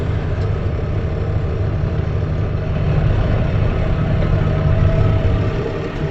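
A tractor engine drones steadily while pulling a slurry spreader in 10th gear, a loud, continuous low rumble with no breaks or voices, holding level across the whole stretch.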